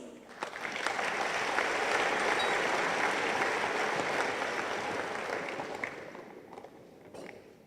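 Guests at a formal European Day dinner in Taipei applaud a visiting trade official; the clapping swells in, holds steady as a broad crowd wash, then tapers off near the end.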